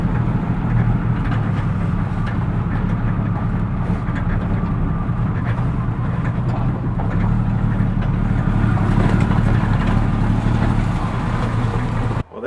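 A rusty 1978 Chevy C10 pickup, off the road for 24 years, driven and squeezed into a parking spot between a shop and a house, a continuous rumbling engine and road drone close by with a slight rise and fall.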